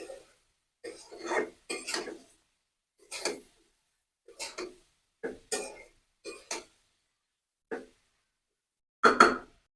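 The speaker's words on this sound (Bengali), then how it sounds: "আমি ঢাকনাটা খুলে আমি তরকারিটা সুন্দর করে একটু নেড়ে চেড়ে দিব।" A spoon scrapes and stirs radish and potato curry in a pot, about a dozen separate rasping strokes at an irregular pace, close and fairly loud, each followed by a short silence.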